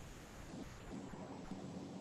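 Rain and wind outside make a soft, steady wash of noise with faint low rumbling, quiet and distant, with no talking.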